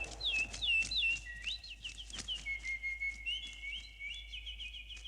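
Cartoon bird chirps and whistled tweets from the animated Asterix film, a run of bright rising and falling calls that carries on steadily for several seconds over a faint low hum, with no talking.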